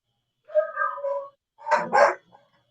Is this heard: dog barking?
yes